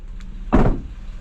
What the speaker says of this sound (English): That door doesn't sound good either.